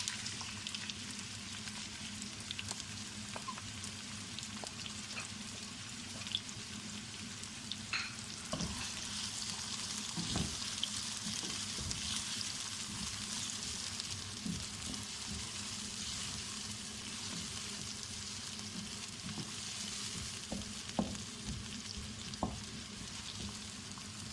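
Onions frying in hot oil for mutton korma crackle and hiss steadily at a low level, with occasional pops and faint stirring knocks throughout.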